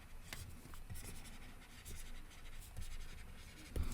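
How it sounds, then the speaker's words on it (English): Marker or chalk writing on a board during a chemistry lesson, faint scratchy strokes in short irregular bursts, with soft taps between them. "I'm going to write physical properties over here."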